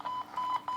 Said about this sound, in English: it will go in and start to give us that single beep